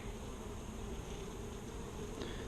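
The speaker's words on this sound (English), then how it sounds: "Oh yeah, so all those bees hatched." Honey bees buzz densely at an open beehive during a summer hive check, a steady close swarm drone without pause and no voices.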